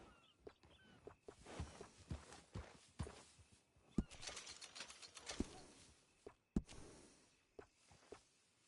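Hooves of a groomed horse in Red Dead Redemption 2 clip-clop in an uneven walking rhythm, close and moderately quiet, with a few sharper thuds standing out.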